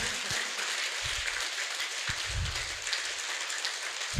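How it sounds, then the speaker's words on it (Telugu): Loud, continuous clapping from a crowd at a group meditation event, dense and steady throughout, with brief low voice sounds cutting in now and then. "ఇంకా గట్టిగా చప్పట్లు."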